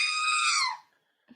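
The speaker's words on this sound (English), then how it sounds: "Why do I have a Jawa screaming for my ringtone?" A phone ringtone of a screaming Jawa from Star Wars: a shrill, warbling electronic scream blares for most of a second, then cuts off, followed by a faint short chirp near the end.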